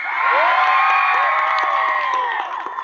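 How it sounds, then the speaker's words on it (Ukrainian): A loud concert crowd cheering and whooping continuously, high excited voices blending into a sustained roar that fades slightly at the end. "Ні, давайте зараз, зараз Юліку, Юліку оплески!"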